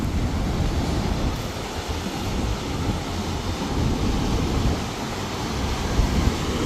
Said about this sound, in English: Look at some of those monstrous waves.